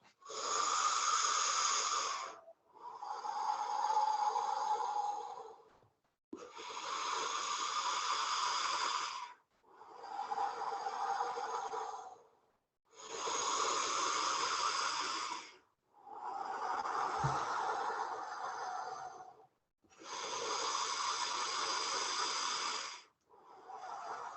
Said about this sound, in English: So it's an O-shaped mouth. It's like you're drinking up some air and then you're letting it go. Really full inhales, full exhales.